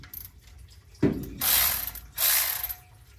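A ratchet works loose the alternator on a Chevrolet C10: one sharp metallic knock, then two bursts of rapid clicking pawl strokes, close and fairly loud, with no talking.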